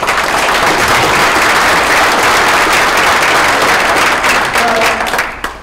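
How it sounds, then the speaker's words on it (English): Loud, dense applause from a crowd at a Minnesota Republican governor candidate forum follows a candidate's remarks, sustained for several seconds before tapering off at the end. "I appreciate everybody's applause after each candidate, but that slows us down"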